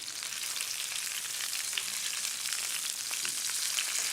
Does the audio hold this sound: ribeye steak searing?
yes